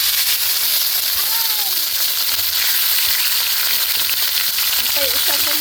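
Pork fries in its own fat in a pan for adobo, giving a loud, continuous sizzle and crackle with occasional stirring scrapes, while a voice talks faintly underneath.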